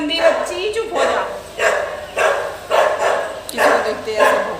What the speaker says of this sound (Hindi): किसी को देखते ऐसे भौंकने लगे।